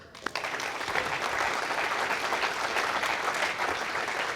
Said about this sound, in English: Et puis bien sûr, il faut aussi applaudir pour Évry.